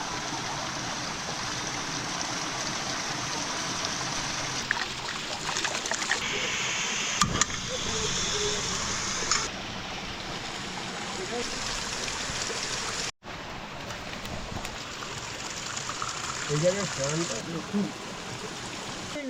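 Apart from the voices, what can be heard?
mountain waterfall stream flowing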